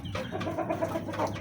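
Desi hens and a desi rooster clucking inside a poultry shed, a run of close, overlapping clucks and short calls in quick succession.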